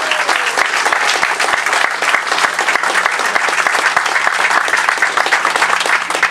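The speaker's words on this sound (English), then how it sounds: "A big round of applause for the outstanding volunteers and organizers." Loud, dense applause from a large crowd at an outdoor anti-HST protest barbecue at Mooney's Bay, steady and sustained throughout with no pause.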